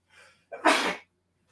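A single loud, close sneeze with a short inhaled build-up before the sharp burst, heard alone indoors.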